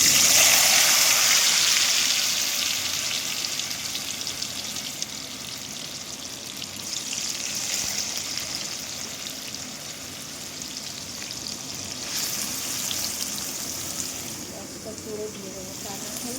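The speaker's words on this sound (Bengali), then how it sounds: "তো চলো এখন আগে আলুটা ভাজা করব" Potatoes frying in oil, a broad hissing sizzle loudest at the start then settling into a steady bubbling crackle, close and continuous, with faint scraping near the end.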